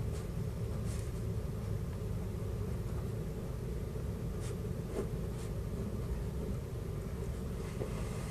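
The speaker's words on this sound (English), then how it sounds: "Write down your target reaction" Pen writing on paper, soft scratchy strokes in a steady run under a constant low rumble of background noise.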